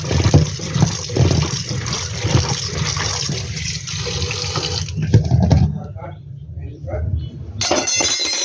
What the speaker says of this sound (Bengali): এখানে জল দিয়ে দিয়েছি।